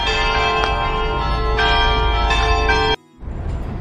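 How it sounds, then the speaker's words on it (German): Church bells in Prague ring loud and close, their overlapping strikes sustaining a rich metallic peal that cuts off abruptly, leaving a fainter ambient wash. "Bitte, mit originalen Glockengeläute."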